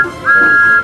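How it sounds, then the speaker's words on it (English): A single sustained steam-engine-style whistle for a small tank engine, a clear steady tone held for most of the short moment, close and loud with no talking. "This cheeky little tank engine has a very familiar whistle"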